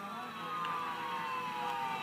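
A police car siren in the video game GTA 4 wails and sweeps downward over a continuous vehicle rumble, fairly distant and steady for a couple of seconds.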